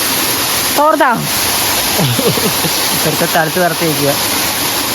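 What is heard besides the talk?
waterfall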